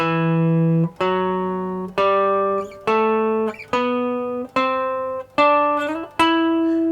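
A guitar plays a steady ascending minor scale of eight sustained notes, each plucked cleanly with a short gap before the next, clear and close.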